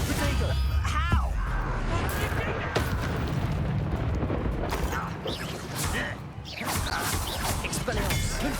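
Spell-combat explosions from the Hogwarts Legacy video game, including the Confringo blast spell: a dense, loud wash of booming bursts and crashing debris with a sharp hit near the start and continuous rumbling effects throughout.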